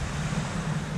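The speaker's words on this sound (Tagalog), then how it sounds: "Dito ulit ako sa tabing dagat." Waves wash onto the seashore at Lobo, Batangas, a steady low surf rumble mixed with wind buffeting the microphone, continuous and fairly loud with no voices.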